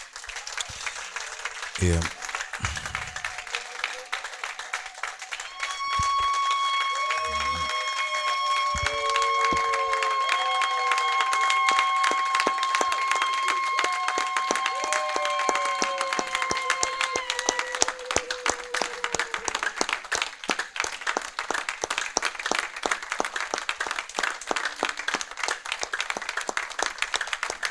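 A church congregation claps and applauds in a long, dense, steady roar of hands, with sustained singing or cheering voices rising over it partway through.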